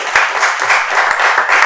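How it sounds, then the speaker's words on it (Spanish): A crowd applauding steadily, dense overlapping claps at a fairly loud, even level for a short stretch. "Vamos a darle un aplauso a esta parte."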